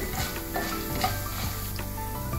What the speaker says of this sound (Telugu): ఇదంతా కూడా స్లోగా ఇలా కలుపుకుందామండి. కొంచెం దూర రంగు వచ్చే వరకు కూడా వేయించాలి